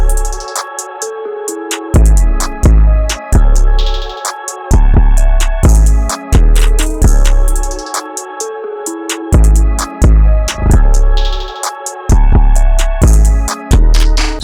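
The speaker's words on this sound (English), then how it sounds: "Here's that 808, sounds like this" Deep 808 bass hits in a trap beat built on an ambient loop, booming repeatedly in a syncopated pattern under a bright melodic layer, loud and with no talking.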